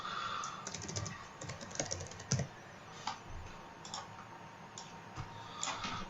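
Fast typing on a computer keyboard, close and fairly quiet, in quick bursts of key clicks with short pauses and no speech.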